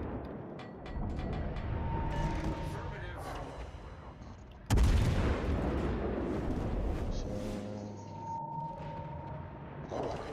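Warship guns booming in the naval battle game World of Warships Legends, with a sharp heavy blast midway over a steady rumble of engine and battle noise, loud and close, under continuous game sound.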